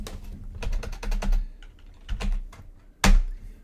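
Someone types on a computer keyboard nearby, with quick runs of clicky keystrokes broken by short pauses and a single harder key press near the end. No one speaks.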